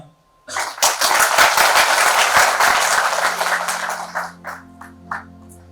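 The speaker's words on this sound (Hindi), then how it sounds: "आप सभी के लिए तालियां" An audience at a Hindi-language seminar breaks into a loud, dense burst of applause that holds for a few seconds, then thins into a few isolated claps before fading.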